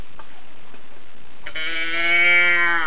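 A moo box toy gives a single drawn-out, harmonic, bleat-like moo that swells at the end, alone after a quiet start.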